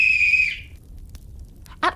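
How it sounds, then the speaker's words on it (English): A silver whistle used as a story sound effect gives one clear, shrill blast of about half a second that fades out, followed by near silence and a short, sharp high sound at the end. "she blew upon her silver whistle that hung around her neck."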